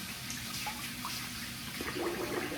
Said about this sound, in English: Let me wet the face again.